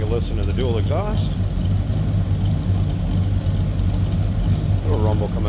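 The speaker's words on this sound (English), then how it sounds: "Little rumble coming out of that 350." Deep, steady rumble from the dual exhaust of a 1964 Chevrolet C10 long box pickup with a 350 V8 at idle, close and loud, with someone talking briefly over it at the start and end.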